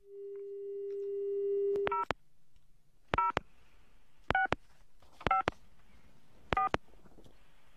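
Telephone tones while dialing a listener: a long steady tone, then five evenly spaced ringing bursts, each a quick double pulse, loud and clear with nothing else over them.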